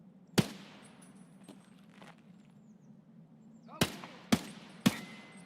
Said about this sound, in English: Okay, gunshots.